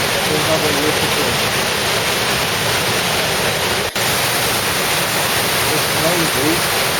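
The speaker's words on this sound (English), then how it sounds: "Another outlet in the bottom and it pours out again to another waterfall." A Swiss waterfall pours from an outlet into another cascade, giving a steady, close, unbroken roar of rushing water throughout.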